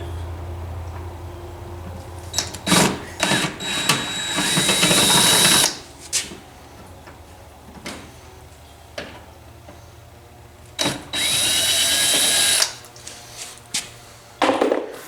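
A power drill backs screws out of a 1995 Corvette body during bodywork prep, in two loud whirring bursts a few seconds long separated by clicks and handling noise.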